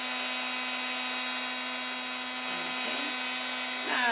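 An electric embossing heat tool runs with a steady high-pitched whine and hum, holding a constant tone before a slight shift in pitch near the end, close and alone.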